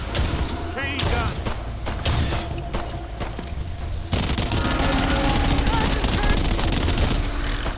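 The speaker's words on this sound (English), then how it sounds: "Chain gun." Rapid chain gun fire in the co-op alien shooter Earthfall, a dense continuous burst of shots that swells louder halfway through, with players talking over the gunfire.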